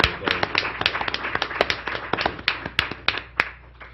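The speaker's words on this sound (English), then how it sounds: "let's give them all a round of applause" A room full of people at a general session gives a round of applause, a dense patter of many hands clapping at once that starts strong and gradually thins out, with no talking.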